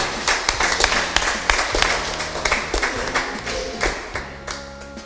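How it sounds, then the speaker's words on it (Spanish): Loud applause from a church congregation during a Q'anjob'al-language sermon, dense overlapping claps and taps rising in sharp bursts and continuing steadily, close and full, with no talk over it. "fuerte aplauso"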